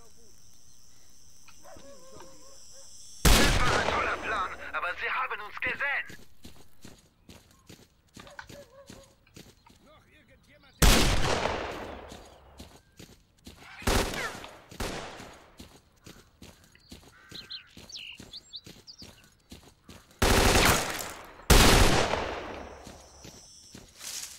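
Gunfire in the shooter game S.T.A.L.K.E.R. Clear Sky: several loud, sharp bursts break out at intervals between quieter stretches of ambient game sound, with a voice talking over parts of it.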